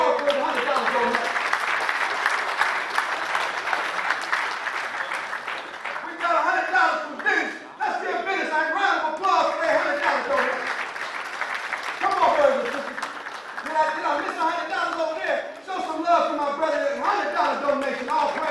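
An audience applauds a $100 donation at a peace summit, a sustained round of clapping mixed with cheering and an announcer talking over it, with the applause swelling and fading in waves.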